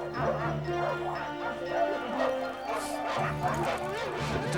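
Two or more dogs at a house, one on a chain, let out a few yips and whimpers amid continuous talk and background music, fairly close and mixed under the voices rather than loud or alone.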